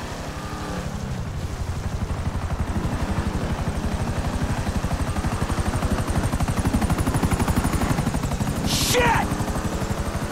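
A helicopter in Grand Theft Auto V thunders close overhead with a loud, steady rotor chop that swells briefly, while someone shouts over it.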